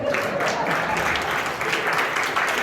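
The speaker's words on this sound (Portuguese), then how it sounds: "Vamos aplaudir a nossa vida" Loud, steady applause from a church class audience fills the space, a dense continuous wash of clapping with a voice faintly mixed in.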